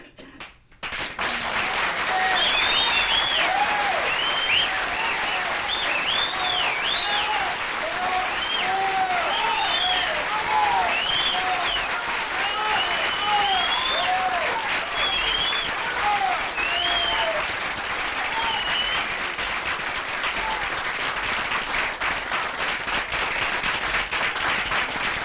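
Sustained audience applause at a 1967 comedy show recorded on vinyl, a dense steady wash of clapping that swells quickly and holds loud and continuous, mixed with scattered cheers and whoops from the crowd.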